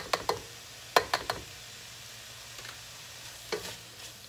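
Garlic being stirred into a beef and vegetable one-pot meal with cranberries: scattered spoon scrapes and clinks in small clusters over a faint background sizzle, close and fairly quiet, with no talking.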